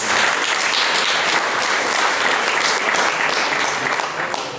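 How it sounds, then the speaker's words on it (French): Loud, sustained applause from a crowd at a political public meeting, dense and even clapping filling the room for several seconds. "On peut les applaudir, je pense."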